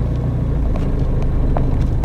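A Ford Fiesta pulls away on a street near Paris, its engine a low steady rumble that comes through under heavy wind buffeting with faint mechanical clicks.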